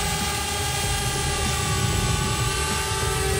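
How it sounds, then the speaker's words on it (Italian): A DJI Spark drone flies back toward the operator with a loud, steady high-pitched propeller whine and buzz that holds close and constant throughout. "Quindi per far tornare il drone invece così."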